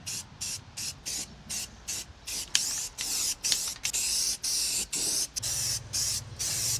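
Short bursts of aerosol spray paint on a boat trailer hiss in a steady rhythm, each lasting about half a second with brief pauses between, close and fairly loud.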